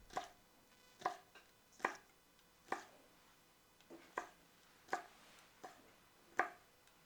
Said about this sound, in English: Slice them into thin, even ribbons.